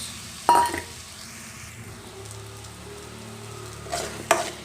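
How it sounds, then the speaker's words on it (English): Onion and finely chopped tomatoes frying in a pan for prawn gravy, a soft steady sizzle with a sharp scrape of stirring at the start and another pair of scrapes near the end. "Now we can add tomatoes to this. Finely chopped tomatoes."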